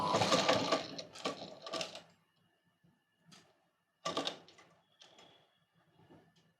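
Sewing machine stitching a princess cut blouse, running in several short bursts with brief pauses between, close and fairly quiet, with no voices.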